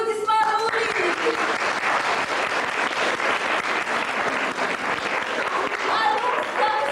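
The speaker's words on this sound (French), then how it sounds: "Applaudissements nourris." A theatre audience gives hearty applause, a dense, steady wash of clapping that stays loud and even from start to finish.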